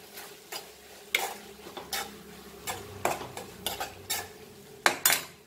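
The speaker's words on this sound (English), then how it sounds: "Mix the salt." Red spinach (tambdi bhaji) cooking in a pan is stirred after salt goes in, the spoon scraping and clinking against the metal in uneven strokes over a faint sizzle, with no talking.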